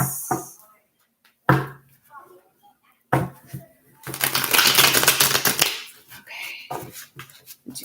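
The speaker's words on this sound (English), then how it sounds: "Do one more shuffle and then try to pull just one here." Tarot cards shuffled by hand at close range: scattered taps and flicks, then a dense papery riffle lasting over a second, with intermittent quiet voice between the bursts.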